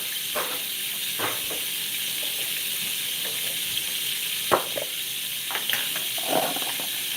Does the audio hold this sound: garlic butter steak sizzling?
yes